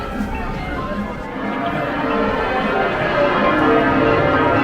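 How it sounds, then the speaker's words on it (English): Church bells in York, England ring continuously in a loud, overlapping peal, their ringing tones layered over a murmur of background noise. "That's the bells for beer o'clock."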